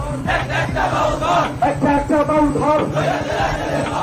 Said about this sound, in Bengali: বাউল শিল্পী আবুল সরকারের ফাঁসির দাবিতে মানিকগঞ্জে বিক্ষোভ সমাবেশ করেছে কথিত সর্বস্তরের আলেম ওলামা ও তৌহিদি জনতা